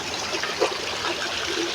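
Pump-fed water trickles and splashes steadily, close by, at a stone grotto shrine to Mary at a church in Laurel, Batangas, heard alone without talk.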